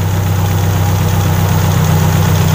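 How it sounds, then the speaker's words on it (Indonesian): A Suzuki Carry 1.0 engine idles steadily during distributor timing adjustment, a close, continuous low rumble with even rapid pulsing and no speech. "kita cermati untuk suara mesinnya itu semakin halus atau semakin berebut atau semakin kasar ya"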